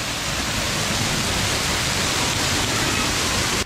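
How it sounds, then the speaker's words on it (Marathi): A hidden waterfall at Dongarwadi in Vadgaon Maval, a loud, dense, unbroken roar of rushing water heard close up, filling the whole scene before cutting off abruptly at the end. "दिल खुश झाला या इतक्या धबधब्याने"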